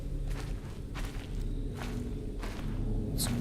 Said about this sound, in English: You're just walking down the path